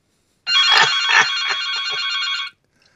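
A telephone bell rings in one continuous burst of about two seconds, loud and close, then stops abruptly into silence.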